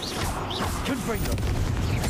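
A Confringo blasting spell is cast in a video game, a dense burst of crackling, whooshing magical effects with sharp chirping swoops, mixed with game voices.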